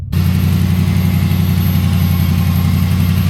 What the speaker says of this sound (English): the secondary air injection pump is running